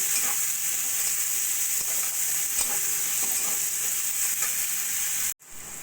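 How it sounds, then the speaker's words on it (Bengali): Thinly sliced onions fry in a pan with a steady, close hiss and sizzle, stirred with light scraping, until the sound cuts off abruptly near the end. "পেঁয়াজটা একটু ভাজা ভাজা করে নেব"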